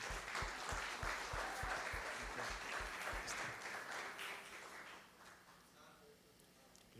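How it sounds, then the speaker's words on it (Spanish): A crowd applauds a church choir with dense, steady clapping that gradually thins and fades over several seconds, some louder individual claps standing out early. "quiero que le demos un fuerte aplauso al coro de nuestra iglesia"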